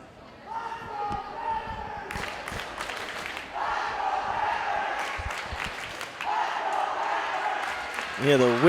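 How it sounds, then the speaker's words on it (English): A high-school girls volleyball playoff crowd in a gym chants and cheers for their team during a timeout, rhythmic shouts rising in bursts with sharp claps and thuds, close and loud. "the Whitman-Hanson crowd cheering, "Let's go Panthers.""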